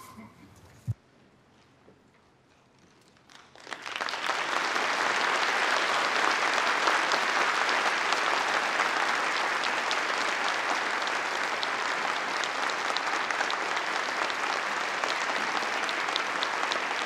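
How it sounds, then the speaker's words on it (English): After a quiet moment and a single knock, a large audience at a lecture breaks into loud, sustained applause that keeps going evenly to the end. "Please give a big applause once again to Dr. Kunitake."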